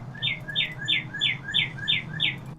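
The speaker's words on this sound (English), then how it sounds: "Ooh, I love the sound of birds." A bird chirps in a regular series of about seven quick, bright descending calls, played as an ambient sound effect during a tabletop role-playing game session. The calls are clear and evenly spaced over a low background hum, with no talking.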